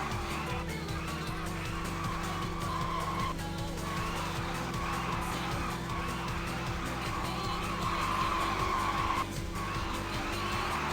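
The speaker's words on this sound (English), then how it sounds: "with all this tire screeching" Tires squeal steadily over a droning Toyota Levin AE85 engine in the arcade racing game Initial D Arcade Stage Ver. 3, with a few brief high screeches rising above the constant motor noise.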